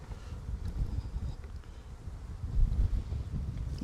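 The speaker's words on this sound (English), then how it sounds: "This wind's going to blow everything over." Wind buffets a microphone outdoors beside beehives, producing a low, rumbling, uneven roar that swells and fades, with faint insect buzzing underneath.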